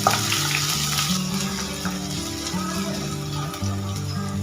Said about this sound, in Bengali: এইবার এই তেলের মধ্যে দিয়ে দেব 1 চামচের মতো আদা রসুন কুচি।